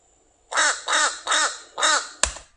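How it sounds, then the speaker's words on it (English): Four short, nasal fish crow caws in an even rhythm, close and clear against a quiet background, followed by a brief thump. "their caw sound is a little bit more nasally"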